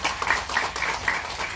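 Audience clapping at a Tamil movie press meet, a short burst of quick, fairly faint handclaps in an irregular patter, with no voices over it.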